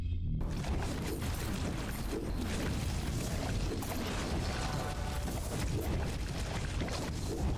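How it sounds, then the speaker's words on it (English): Dense, continuous rumbling booms and crackling blasts from combat effects in the video game Death Must Die pile into a loud, unbroken wall of explosion noise after a brief quiet start. "Look at these explosions."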